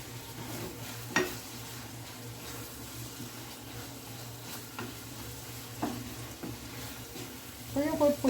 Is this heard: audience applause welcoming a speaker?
no